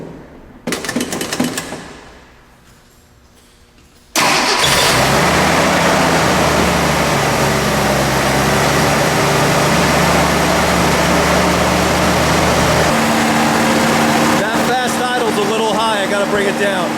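A car engine with a freshly rebuilt carburetor cranks briefly and then catches, running steadily and loudly close by.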